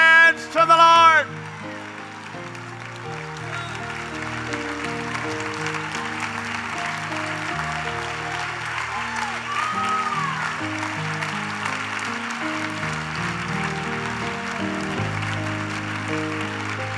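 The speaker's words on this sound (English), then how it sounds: "Everybody get on your feet and clap your hands to the Lord." A church congregation claps along on their feet over loud organ or keyboard music, with a brief vocal burst at the start; the clapping runs as a steady, crowded patter under the sustained chords.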